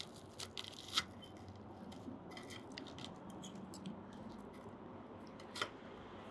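Crispy batter on a hot piece of fried fish from a fish and chips shop being bitten and chewed close up, with a few sharp crunches standing out over a steady low rustle.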